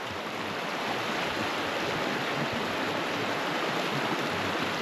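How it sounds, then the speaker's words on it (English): A stream runs high with snowmelt after warm days, a constant, full rushing of water close by, steady and broadband with no voices. "And the water's really flowing."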